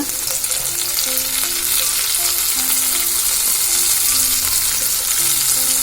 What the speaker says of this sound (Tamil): இதை என்ன பண்ணணும்னா நல்லா ஃப்ரை பண்ணணும்.